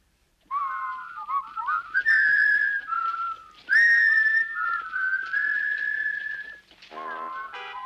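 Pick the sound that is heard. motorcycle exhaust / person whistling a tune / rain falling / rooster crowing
person whistling a tune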